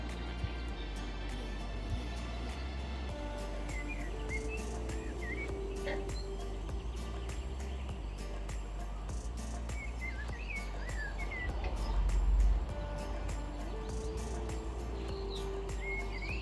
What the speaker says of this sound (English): Sometimes when I'm out here painting, I can hear the birds singing